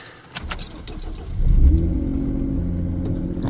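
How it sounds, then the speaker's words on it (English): A twin turbo Ford Mustang engine cranks and catches after a bit of rattling, then settles into a loud, steady idle close by. "Well, the car starts, no problem."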